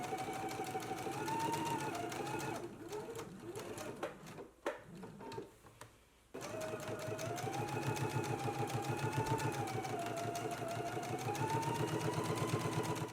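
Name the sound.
sewing machine top stitching a dress collar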